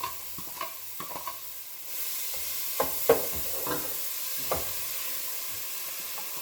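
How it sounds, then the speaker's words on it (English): Vegetables sauté in hot olive oil in a pan with a continuous gentle sizzle, punctuated by scattered clicks and taps of a utensil stirring, close and quiet with no talking. "So I'm gonna add that to my hot olive oil. And I'm just gonna start sauteing that a little bit."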